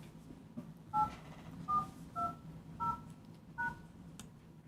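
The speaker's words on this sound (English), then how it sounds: "Enter the meeting pin followed by the pound key." Phone keypad tones dial a meeting PIN for a Google Meet call into a public hearing: five distinct DTMF beeps in an even sequence, fairly quiet against faint background hiss, no talking.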